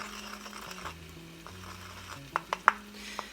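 Turmeric and cayenne pepper are stirred together in a pan, producing soft sizzling under a low steady hiss, with a few sharp clinks of a utensil against the pan near the end.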